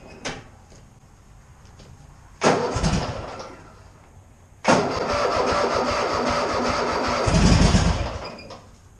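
Cold start of a wood chipper's engine outdoors in cold weather: a short cranking burst, then a second attempt where the engine catches and runs roughly, swelling to a louder rev near the end. No one speaks.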